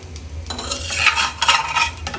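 Chitai pitha batter frying in oil, heard as a close, fairly loud crackling sizzle with stirring and metal utensil scrapes over a low hum.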